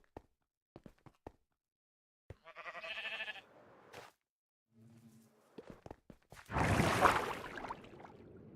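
White sheep in the game RealmForge bleat in short wavering calls between scattered footstep taps, with a burst of louder rustling noise near the end; the sounds come and go against otherwise quiet gaps.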